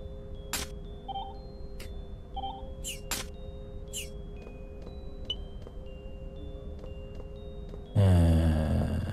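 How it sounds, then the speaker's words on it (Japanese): In the video game Misao, sparse clicks, soft beeps and tones give way to a sudden, loud telephone ring that bursts in near the end and keeps sounding. "電話の音にびっくりして"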